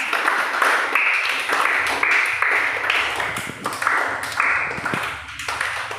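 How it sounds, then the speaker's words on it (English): A group of students at a KLH speaking skills session clapping for themselves, a sustained round of dense, steady applause from many hands throughout, with no speech over it. "Now, every one of you clap for yourself. Give a big round of claps."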